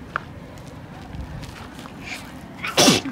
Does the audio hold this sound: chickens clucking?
no